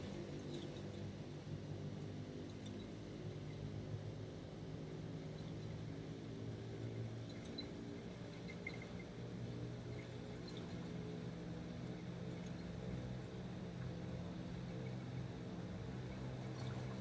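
Piston engines of a simulated PMDG DC-6 airliner run at full takeoff power, giving a steady, even drone that stays quiet and unbroken throughout with no talking.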